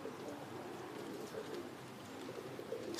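Soft, low cooing comes from young Modoc High Mountain Zipper pigeons in a late-hatch loft kit, a faint murmuring drone of several birds over steady background hiss.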